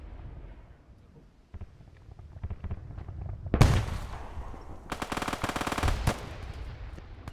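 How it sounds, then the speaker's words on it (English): Bursts of gunfire crackle in a Stalingrad battle video game, with scattered distant shots giving way to a loud, close sustained volley, then a second long rattling burst. "Die schießen von drüben auf."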